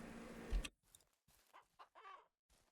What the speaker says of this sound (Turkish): Şu tavuklara bir bakalım.